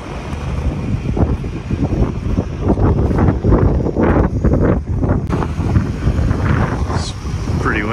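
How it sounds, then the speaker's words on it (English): Strong wind buffets the microphone beside a truck towing a Crossroads Sunset travel trailer, a loud, steady roaring rush with gusting surges throughout. "It's pretty windy."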